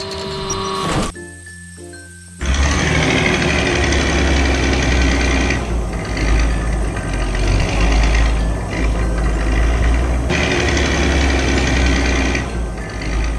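Heavy yellow road machinery engines rumble loud and continuous after a brief quieter start, a dense steady roar with slight surges, working on a damaged road.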